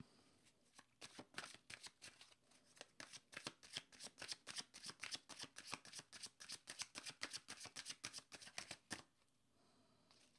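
A deck of playing cards is riffled and shuffled in rapid bursts of crisp, rhythmic flutters, close and clear, continuing for most of the stretch before stopping abruptly near the end.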